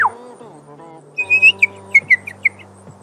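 A person whistles an imitation of a whippoorwill call, a run of short, bright, rising whistled phrases with gaps between them, close and clear over a low hum.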